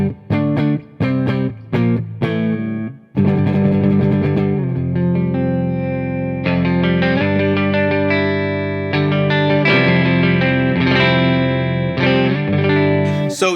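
An electric guitar through a Fender Jaguar's tone pot wiring, with a distorted, effects-laden tone, playing a few choppy plucked notes before moving into sustained, ringing chords that carry on loudly to the end.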